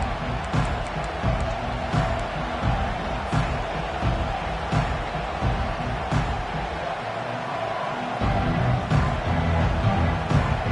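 A stadium crowd at a Huskers football game roars in a dense, sustained wash of cheering and noise that fills the space without letting up.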